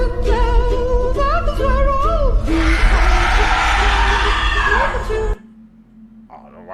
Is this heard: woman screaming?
yes